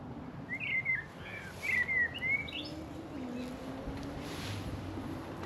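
Birds chirp and sing in a quiet village on the edge of London, bright repeated calls rising over steady low background noise, mostly alone with no talking.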